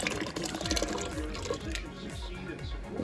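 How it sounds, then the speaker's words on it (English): Coconut milk pours from a can into a pot of cooked Jamaican rice and peas, a short, close, gurgling stream of liquid. "pour in the coconut milk"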